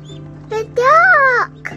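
A duck gives one drawn-out, nasal quack close by, preceded by a short, softer call, over a steady low hum.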